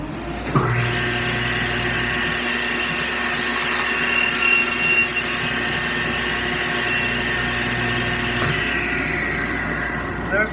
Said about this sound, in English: So I'm going to turn my vacuum on.